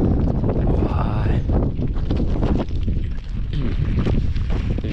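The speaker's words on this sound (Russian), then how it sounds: "Ветра здесь начались конкретные, сдувает." Strong wind at the ancient city of Knidos, Turkey, buffets the microphone in a loud, continuous roaring rush.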